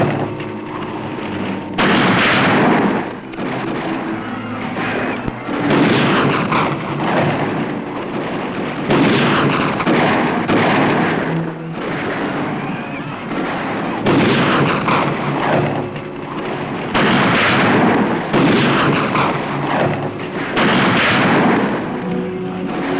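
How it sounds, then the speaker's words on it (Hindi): Heavy gunfire from a period action film, with loud booming bursts repeating in waves that swell and fade over a continuous rumble, no talking. "गोली चला दो, अभी पता चल जाएगा।"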